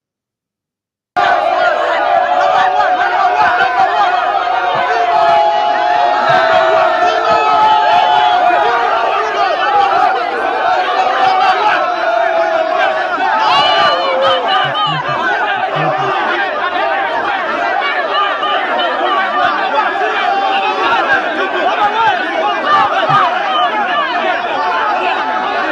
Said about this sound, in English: The crowd cheered him up, and this is how they welcomed him.